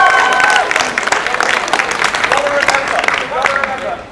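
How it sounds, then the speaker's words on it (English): A crowd at an outdoor student protest in London applauding, a spread of claps and scattered cheers, with people talking over it. "there's some round applause for that"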